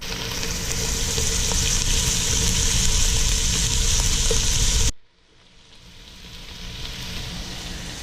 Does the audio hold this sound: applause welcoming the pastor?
no